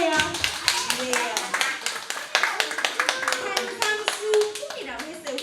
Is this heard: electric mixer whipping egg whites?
no